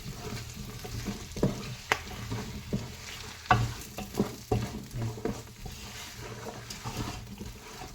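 Chopped green chilies and onions go into hot oil for pappu charu and are stirred, giving a soft steady sizzle broken by sharp scraping knocks of the spoon against the pan, close and without talk.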